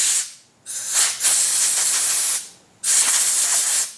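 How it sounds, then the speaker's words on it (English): Compressed air hisses loudly through the oil filler cap of a Honda Silverwing scooter, coming as three strong bursts with brief pauses between them, close and steady with no talking. "I'm going to blow some air through it just to kind of clean all the debris from it."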